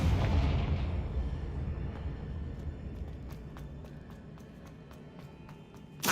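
A Confringo blasting spell explodes in Hogwarts Legacy, a loud booming burst at the start that rumbles and decays over several seconds, followed by faint crackling debris and a second sharp blast at the very end.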